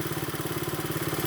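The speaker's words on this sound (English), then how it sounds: "Honda Mini Trail. You can see it's running fairly well." A 1973 Honda Mini Trail 50cc motorcycle engine runs steadily, its small single-cylinder putter pulsing in a rapid, even rhythm, close and fairly loud with no talking.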